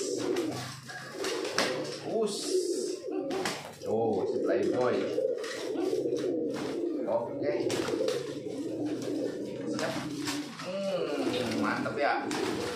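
Market-bought domestic pigeons coo repeatedly in soft, rolling throaty calls close to the microphone, with someone talking over them almost throughout.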